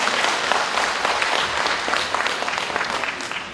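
Dense, steady applause from an audience at a spoken talk, loud and continuous for the whole stretch, with no voices over it.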